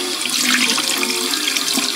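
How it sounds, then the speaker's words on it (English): Tap water runs steadily from a bathroom faucet over a makeup brush being rinsed, a close, continuous splashing hiss that holds evenly for about two seconds with no voices. "just run some water over it."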